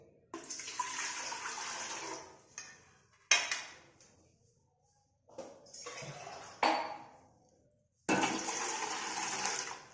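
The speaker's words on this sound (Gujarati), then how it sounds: "પાણી એડ કરીશું" Water is poured into a dhokla steamer in several separate bursts, each a loud close gush and splash into the metal pot, with short quiet gaps between the pours and no talking.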